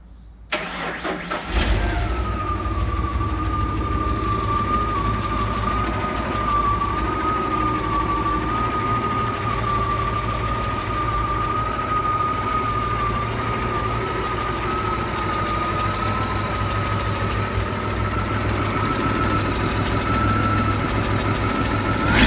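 A rebuilt car engine starts and settles into a steady, loud, even idle that carries on unbroken for about twenty seconds, with no voices.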